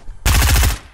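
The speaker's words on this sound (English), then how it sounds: "This is the brand new submachine gun that came out the day I'm recording this" Rapid burst of submachine gun fire from a newly released weapon in Fortnite, loud and close, a dense rattling volley lasting about half a second before cutting off.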